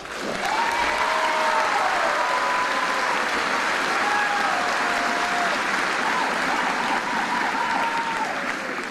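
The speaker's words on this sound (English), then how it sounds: "go ahead, applause, that's fine" Applause from a large crowd at an army boot camp graduation ceremony for an infantry regiment at Fort Jackson, South Carolina, loud and continuous throughout, with faint tonal feedback-like lines and possible voices mixed under the clapping.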